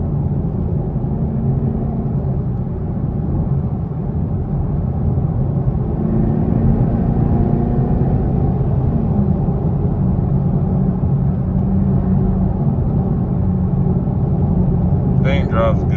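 A donk car cruising along with a steady, low engine drone and road rumble heard from inside, constant in level, with a brief higher noise right at the end.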